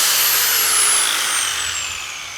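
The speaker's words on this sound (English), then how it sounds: "I found more cracks. I guess I'll go ahead and grind those out." A high, whining power tool grinds out cracks in an old car dashboard, a loud, close, continuous burst whose pitch slowly drifts downward as it runs for a couple of seconds.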